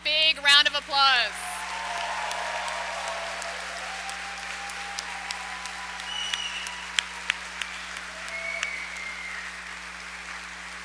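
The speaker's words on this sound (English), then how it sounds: "Let's all give all of our grads here today one big round of applause." Applause for graduates at a 2022 high school graduation ceremony: faint, distant clapping from a large audience with scattered sharper claps, following a brief voice at the start.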